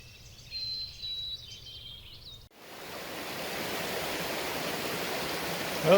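Water flows in a stream at a trail crossing on the Elk Cove trail, a steady broad rush that rises after a brief birdlike whistle and wind at the start.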